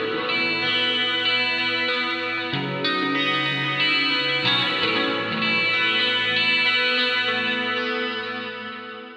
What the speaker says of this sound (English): The first layer I recorded were these chords with some notes sprinkled in between that sound like this.